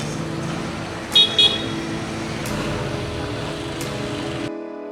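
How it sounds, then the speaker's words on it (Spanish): Street traffic outside a house in the Dominican Republic, a steady rumble of passing cars broken by two short car horn toots. "cuando vuelve este ruido de la calle"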